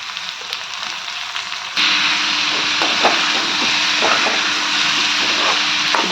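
Boiled ivy gourd and carrot pieces fry in hot oil, giving a steady broadband sizzle that jumps louder partway through as they hit the pan, with faint scraping knocks over the crackle.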